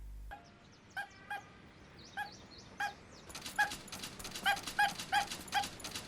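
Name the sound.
robot dog whimpering in Doraemon film clip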